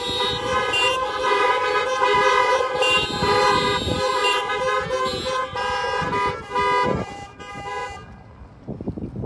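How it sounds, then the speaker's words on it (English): Many car horns blare together at a drive-in church service, overlapping sustained honks and toots of varied pitch filling most of the stretch, loud and close, then cutting off near the end. "look at somebody in a car, and blow your car horn in love"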